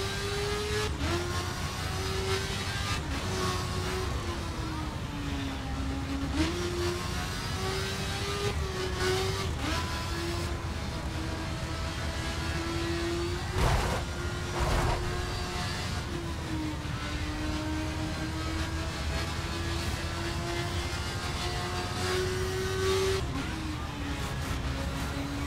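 A Kawasaki Ninja H2 motorcycle engine drones and accelerates in The Crew racing game, a continuous close whine whose pitch climbs and drops with repeated gear shifts, with no talking.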